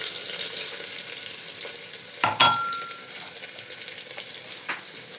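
Mustard seeds and crushed ginger-garlic frying in hot oil for masale bhat, a continuous soft sizzle with a sharp burst of spluttering in the middle, then a quieter fry with a few pops, no talk.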